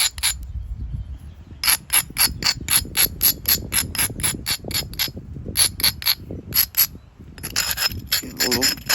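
An Adena knife edge being ground, a rhythmic series of sharp, rasping strokes repeated in quick bursts with short pauses, close and loud.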